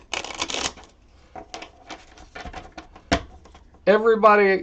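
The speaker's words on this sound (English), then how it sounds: "I'm going to shuffle these cards" A deck of playing cards is shuffled by hand in a few short bursts of riffling and snapping, separated by brief handling sounds and close, fairly loud.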